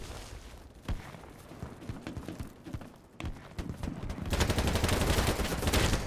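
Gunfire in an online shooter video game, rapid cracking shots in bursts that build into a dense, loud volley toward the end, with other game noise underneath.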